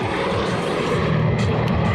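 Patrouille de France display jets pass low overhead at the La Ferté-Alais air show, a loud, steady, broadband engine roar lasting the whole moment with no talking.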